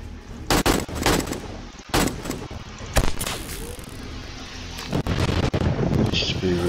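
Gunfire in the video game 7 Days to Die during a horde night, sharp loud shots in irregular bursts with turret fire mixed in, close and heavy, with a voice talking between shots.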